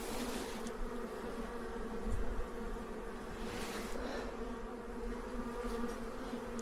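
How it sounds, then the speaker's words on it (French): Honeybees buzzing around a hive as a colony is moved from a nucleus box into a full hive: a steady, dense, close hum with brief louder swells as individual bees pass near, and no talk. "Donc, c'est pour ça que les abeilles vont rester."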